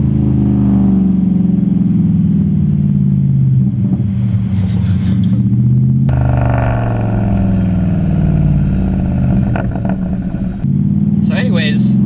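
A straight-piped Mercedes C63 AMG with an airbox revs in loud rumbling bursts that rise and fall, with crackles when the throttle drops and someone talking over the exhaust.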